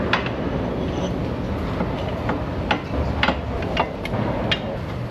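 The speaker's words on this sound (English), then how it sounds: "Let's see if our specially made axle slide hammer setup will do it." Slide hammer being used to pull a Subaru axle in an auto repair shop, sharp metallic impacts landing irregularly about every half second to second over a steady low rumble.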